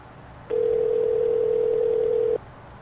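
Telephone tone from the video game Sally Face, a single steady beep held for nearly two seconds, loud and clean against a quiet hiss, with no talking.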